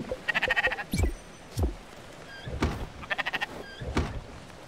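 Sheep in Spiritfarer bleat several times in quick, wavering pulses, close and distinct, with soft thumps and game effects between the calls.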